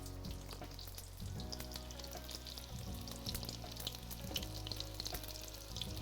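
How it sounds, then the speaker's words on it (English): Beef tenderloin or gnocchi sizzles in a pan on cranked-up heat, a close, continuous crackling fry with steady spitting texture and low kitchen hum, no talking. "Yes, these ones are frying up real nice."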